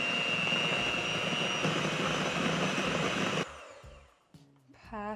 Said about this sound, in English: Grab your electric mixer and you're gonna whisk this until it's smooth